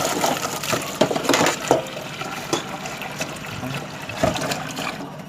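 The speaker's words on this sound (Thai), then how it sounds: "เทน้ำออก เปิดน้ำ แช่น้ำเย็น เอาไข่มาแช่น้ำเย็น" Cold tap water runs and splashes into a pot to cool freshly boiled chicken eggs, a steady close trickle with several sharper splashes and clinks, no talking.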